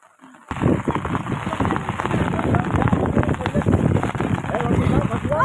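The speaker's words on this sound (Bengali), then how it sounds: "দেখো প্রচন্ড বৃষ্টি হচ্ছে" Heavy rain from Cyclone Remal pattering steadily on a surface close by, on a river with boats, a dense hiss that starts abruptly and continues throughout, with voices faintly underneath.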